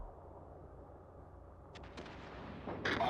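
Battleship Mutsu's main guns in World of Warships boom faintly from a distance over a low, rumbling background, with a few short blasts followed by a louder burst at the end.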